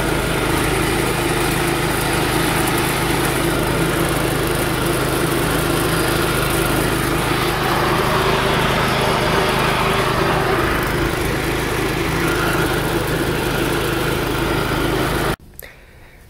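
Sears Suburban garden tractor engine running steadily during a ride, a loud continuous drone with an even hum that holds for about fifteen seconds before cutting off abruptly near the end.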